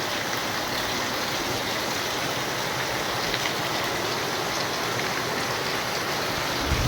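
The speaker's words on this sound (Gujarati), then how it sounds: "જો ફૂલ વરસાદ ચાલુ થઈ ગયો છે." Heavy rain pours down on and around a mud house as a constant, dense hiss, steady and fairly close throughout, with no voices over it.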